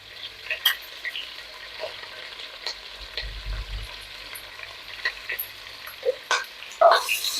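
Three chopped big onions fry in oil for biryani, with a soft steady sizzle under repeated scraping and clinking stirs of a spoon against the pan, close and moderately loud.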